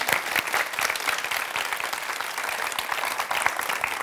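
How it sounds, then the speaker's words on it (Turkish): Studio audience applause on a Turkish talk show, dense and steady clapping from a full crowd lasting throughout, loud and close with no talking over it. "Bir alkış, vallahi nefis."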